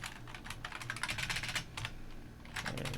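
Quick typing on a computer keyboard while writing C++ code, a rapid stream of close clicks that pauses briefly and then resumes in a final burst, over a steady low hum.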